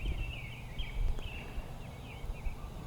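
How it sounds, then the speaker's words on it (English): Birds chirp and call intermittently at a distance over a steady low outdoor rumble, with several short high calls scattered throughout. "You can hear the birds all around me."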